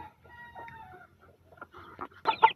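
Chickens and a rooster being fed on a rainy morning, with scattered clucks building to louder, close crowing calls near the end, with no talk.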